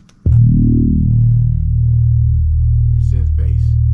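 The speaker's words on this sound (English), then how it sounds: "one thing I also added just to make it a little deeper is like a wave bass, like a fretless" Deep fretless-style wave synth bass entering abruptly and holding a sustained low note beneath soft pad chords, loud and smooth with a warm buzzing tone, a few faint higher textures flickering near the end.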